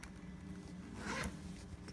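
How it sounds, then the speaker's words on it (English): Zipper on a small flea-market bag or purse being drawn along its track, a close, steady raspy run that swells briefly near the middle with no talking. "And then it also has a zipper right here."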